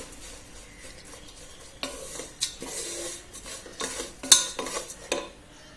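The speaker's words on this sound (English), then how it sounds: "And this you need to saute for at least 3 to 4 minutes till all the jaggery melts and the mixture becomes a bit sticky" Oats, dried fruit and jaggery stirred in a pan as the jaggery melts, with soft sizzling under repeated scraping and clinking of a spoon against the pan, several sharper knocks standing out.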